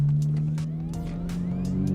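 A Subaru BRZ fitted with an axle-back exhaust rumbles with a loud, steady low drone that rises slightly in pitch, close by and alone, with no talk.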